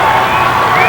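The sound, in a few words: crowd cheering at a wrestling tournament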